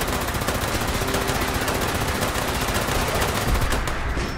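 Sustained rapid-fire automatic gunfire from a big video-game gun rattles loud and close in one unbroken burst, with no pauses.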